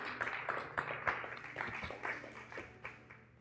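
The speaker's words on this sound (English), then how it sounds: "Let's give God a hand clap, church." A church congregation claps hands together, a loose, ragged burst of many palms at moderate distance that continues steadily and then thins out.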